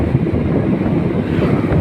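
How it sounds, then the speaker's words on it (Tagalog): Rough sea waves surge onto the shore under strong wind, a loud continuous roar with heavy wind buffeting the microphone. "Maalon po ngayon."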